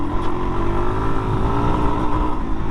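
A 2022 Suzuki DR-Z400S dual-sport motorcycle is ridden off-road, its single-cylinder engine droning steadily at a fairly constant pitch, loud and close with no talk.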